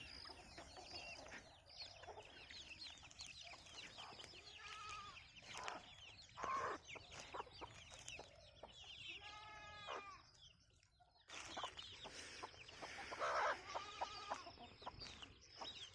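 Chickens clucking and calling over a quiet yard, with an Australorp rooster's louder bursts near the middle and end, some bleating goats in the background.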